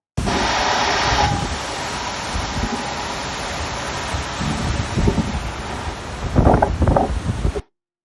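A waterfall in Ecuador roars steadily from about 25 to 30 feet away, a broad continuous wash mixed with wind buffeting the microphone, swelling briefly louder near the end before cutting off.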